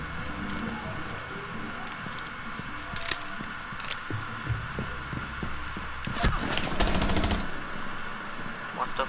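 Video game gunfire rattles over a constant background hum, with scattered single shots and then a loud, rapid burst near the end.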